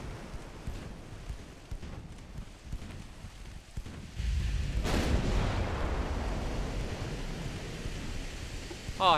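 14-inch naval guns firing in Ultimate Admiral Dreadnoughts: a deep distant boom near the middle swells into rumbling, rolling noise over a steady background, with scattered lighter reports and no talk.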